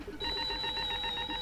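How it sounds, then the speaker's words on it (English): A proximity alarm sounds in a Doctor Who audio drama: a steady, piercing electronic tone with a rapid pulsing warble, continuous and fairly loud under a faint hum. "the proximity alarm will alert us of the intrusion"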